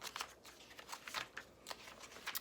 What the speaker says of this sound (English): even just flipping through this design book